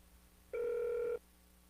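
A landline telephone rings on a long distance call: one steady, buzzy ring tone lasting about half a second, close and clear over a faint low hum.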